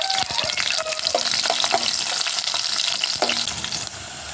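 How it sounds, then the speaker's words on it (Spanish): Onion fries in hot oil for a pitaya-flower stew, giving a bright close sizzle with crackling bursts and sharp utensil clicks. It eases slightly near the end. "Ya está caliente mi aceite. Ahora ya le voy a poner la cebolla"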